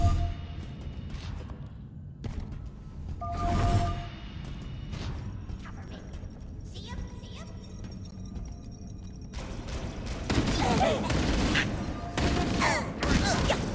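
Gunfire from a first-person shooter video game, with scattered bursts of shots and heavier clusters near the end, mixed with other game effects and a player talking.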